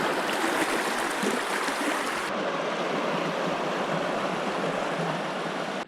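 Steady rushing water of a river in the Mangatoetoe valley, heard on a hiking route river crossing, a dense continuous wash that stays loud and close throughout with no voices.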